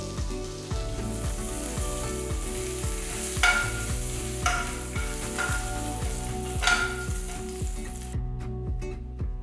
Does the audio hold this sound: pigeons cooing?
no